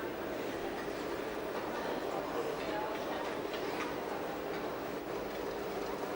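Zurich S-Bahn commuter trains at an underground station, heard as a continuous low rumble and rolling hiss that holds steady and fairly faint, with speech running over it.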